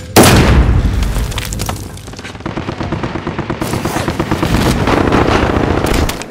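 Loud bursts of video game gunfire, rapid machine-gun volleys and booming shots firing nearly continuously with short gaps, close and dense.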